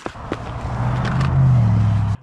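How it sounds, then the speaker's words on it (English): Highway traffic carries through a snowy winter landscape, a low, steady droning rumble with a rising tonal hum that builds and holds loud before cutting off abruptly. "I can hear the highway."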